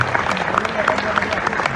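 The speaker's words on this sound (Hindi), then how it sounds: "तालियां कमजोर है आपकी" Modest crowd clapping at a Hindu New Year gathering, a scattered, fairly light patter of hands running throughout, mixed with a voice speaking over it.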